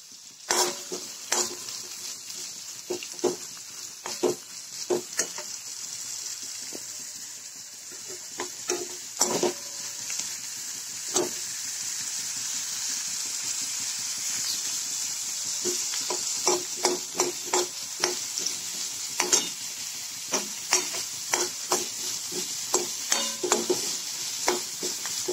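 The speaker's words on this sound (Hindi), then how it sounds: "लहसुन, अदरक, प्याज इसको डाल के अच्छी तरह भूनेंगे।" Garlic, ginger and onion fry in a pan with a steady bright sizzle, while a spoon scrapes and stirs in frequent sharp clacks across the whole stretch, close and fairly loud.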